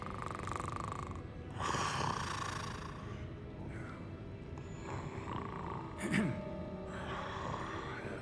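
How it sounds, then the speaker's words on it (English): A sleeping character in a video game snores in slow, drawn-out, wheezy breaths, fairly soft and spread across several seconds, with a person talking at times. "What is someone snoring? Someone is sleeping."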